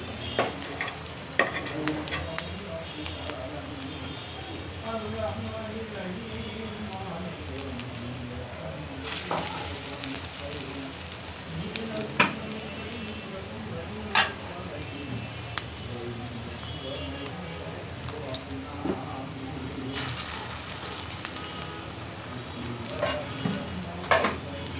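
Bora fritters frying in hot oil sizzle steadily, with occasional clinks and scrapes of a utensil against the pan, while a voice talks over the cooking throughout.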